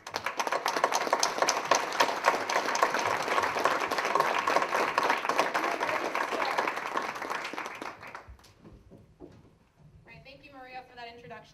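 Audience at a Rotary Club gubernatorial forum welcoming the event's moderator, a local TV journalist, with a full, steady round of clapping that fades out after about eight seconds, followed by someone speaking.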